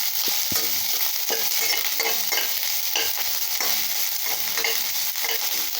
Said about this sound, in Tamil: இப்போ நல்லா வணக்கலாங்க.